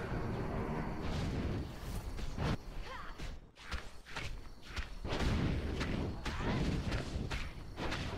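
Tower destruction sequence in the video game Smite: loud, dense crumbling impacts, thuds and whooshing game effects fill the whole stretch, with a brief dip midway before a fresh burst of crashing.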